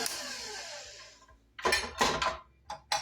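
Electric mixer beating naan dough as oil is worked in, a whirring drone that fades out before several loud, uneven clattering bursts close by.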